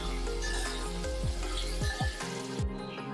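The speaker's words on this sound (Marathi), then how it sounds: "हलकासा लाल रंग येईपर्यंत आपण बोंबील छान परतून घेतलेले आहेत" Dried bombil fish sautéing in a pan over medium heat makes a steady close sizzle, with several short scraping strokes from stirring, alone without any talk.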